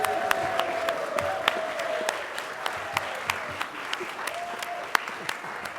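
Congregation members clap and cheer together in a hall, a steady wash of applause with sharp individual claps standing out and faint voices mixed in.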